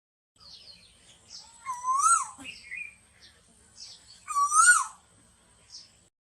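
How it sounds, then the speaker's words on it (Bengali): Asian koel calls in spring, two rising, ringing whistled phrases a couple of seconds apart, clear and fairly close against a quiet background with faint chirps. "বসন্তের আগমনে কোকিলের কুহু কুহু তানে প্রকৃতি মাতাল"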